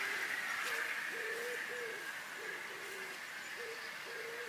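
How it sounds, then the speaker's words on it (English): Pigeons coo faintly in a garden with a model railway, a series of soft, low, repeated notes in a loose rhythm, heard at a distance over a steady background hum. "Got pigeons as well."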